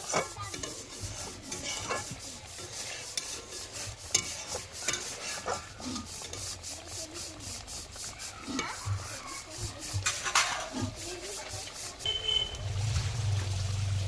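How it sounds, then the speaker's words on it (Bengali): Fish simmering in a boiling pot on a home stove gives a soft, steady bubbling and rustling, fairly quiet and close, with occasional light clinks and scrapes. "এবার আমি এর মধ্যে মাছগুলো সব দিয়ে দেবো। একটু এগুলো ভালো করে সেদ্ধ হয়ে যাবে।"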